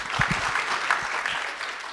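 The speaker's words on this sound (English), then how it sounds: "Applause, please." Applause from an audience at a book launch, a short burst of clapping heard close by.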